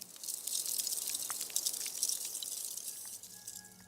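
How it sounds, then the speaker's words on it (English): Field recording of Arctic sea ice: faint, dense crackling and tiny drip-like pops scattered across a quiet, steady hiss, with no voices. "It's all recordings of sea ice."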